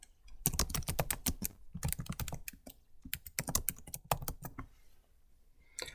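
Rapid keystrokes on a computer keyboard as a name is typed in, several quick bursts of clicking with short pauses, close and clear with no talking.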